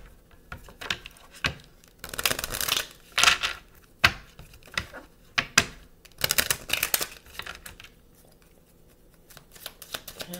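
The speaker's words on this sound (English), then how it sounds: "All right, let's get a good shuffling." A Kipper card deck being shuffled by hand: bursts of crisp riffling and flicking at close range, with softer taps and pauses between bursts, and no talking.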